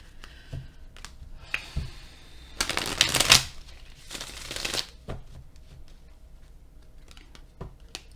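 A deck of tarot cards is shuffled up close, giving bursts of riffling flutter and crisp slaps, with softer card taps and handling between the shuffles.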